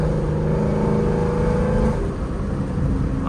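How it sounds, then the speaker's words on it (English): A car engine revs up in fourth gear under acceleration, operated with paddle shifters on an automatic transmission. It gives a steady, loud, close drone with a rising harmonic pitch that dips slightly near the end. "I'm just hitting the gas right now."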